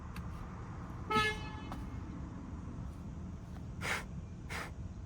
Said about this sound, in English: Listen to the sound of this beautiful, lovely, great horn.